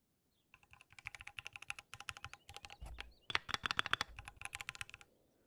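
A clacky computer keyboard is typed on in quick bursts of sharp, close clicks, with brief pauses between flurries and one heavier thump in the middle, loud against a quiet room.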